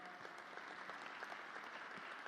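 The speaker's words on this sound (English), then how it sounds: "I noticed some folks clapped" An audience claps at a political speech on oil use and car efficiency in Fairless Hills, Pennsylvania, with a continuous patter of many hands that stays steady and fairly faint at a distance.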